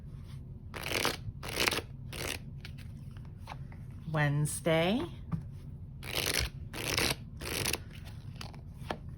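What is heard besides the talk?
tarot cards being shuffled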